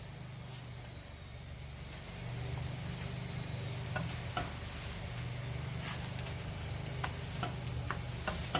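Golden-browned chicken for a sandwich filling frying in a pan, a soft continuous sizzle punctuated by light stirring clicks and taps, heard alone without talk.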